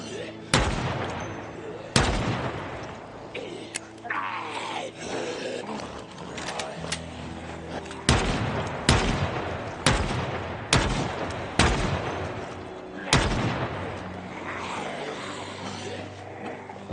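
Gunshots from the Project Zomboid video game ring out as loud, sharp reports, several fired in quick doubled pairs and spaced through the stretch, each with a short decaying tail over a low background.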